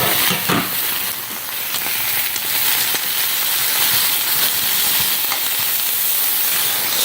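Sausages and peppers fry in a skillet with a loud, continuous close-up sizzle and hiss of steam, with occasional small pops and crackles throughout.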